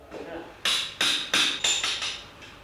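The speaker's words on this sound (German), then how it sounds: "Dieses sitzt noch sehr fest in den Nägeln die mit Stahlklinge und Hammer durchgeschlagen werden." Five sharp metallic hammer blows on a steel blade in a steady rhythm, driving out nails of an old shoe on a working cow's hoof, close and loud, ringing briefly after each strike.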